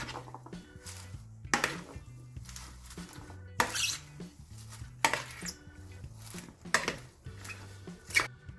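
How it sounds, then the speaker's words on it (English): A chickpea and roast pumpkin salad with rocket is stirred in a bowl, giving quiet, irregular scraping and clinking of a utensil with a few sharper knocks. "I'm just going to go ahead and use it and give that another stir"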